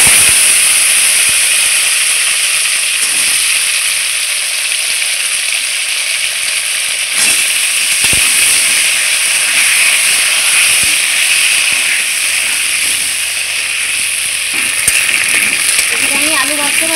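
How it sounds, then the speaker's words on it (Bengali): Chopped potatoes frying in a pan of hot oil, a loud continuous hiss and sizzle throughout, with a few faint clinks near the end. "আলুগুলো ছেড়ে দেব। আলুটাকেও আমি লাল লাল করে ভেজে নেব।"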